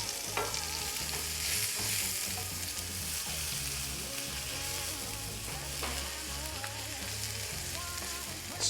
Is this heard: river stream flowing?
no